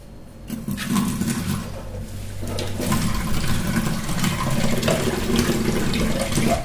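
Water pours from a tap into a mixer jar used to grind spices for puri dough, a loud, steady gushing stream that runs continuously and close by.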